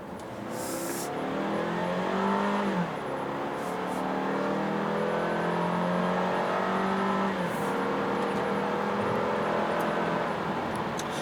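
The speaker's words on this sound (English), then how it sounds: "getting the Camry out to highway speeds" A 2017 Toyota Camry XSE sedan engine revs up through the gears, pitch climbing and dropping with each shift as it accelerates to highway speed, steady and close.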